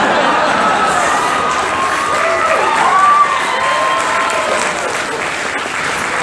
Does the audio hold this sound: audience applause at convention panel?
yes